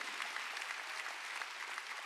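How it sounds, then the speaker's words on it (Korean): Church congregation clapping together during a Sunday worship service, a steady dense wash of many hands that fills the whole stretch at even loudness, with no talk over it. "여러분 박수야"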